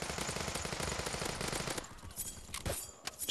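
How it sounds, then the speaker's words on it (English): Rapid sustained automatic fire from a Vector, UMP or AS VAL in the shooter game Bullet Force rattles for nearly two seconds, then breaks off into a few scattered single shots and thuds. "The three guns I'm using right now is the Vector, UMP, and the ASVEL."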